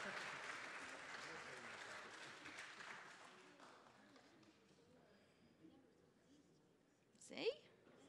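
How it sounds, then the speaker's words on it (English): Children clap together in a round of applause at a church children's message, steady and fairly soft at first, then thinning out and fading, with a sharp louder sound near the end. "Can everybody give a round of applause?"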